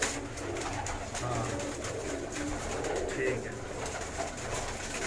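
Steady low cooing from pigeons kept in a loft, a continuous murmur close by under someone talking briefly, with background bustle and rustling throughout.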